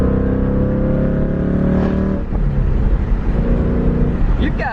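Ford Mustang GT (S550) V8 with a Borla Atak exhaust, a loud close engine rumble that cuts off partway through, leaving lower idle and ambient noise, with faint voices in the background.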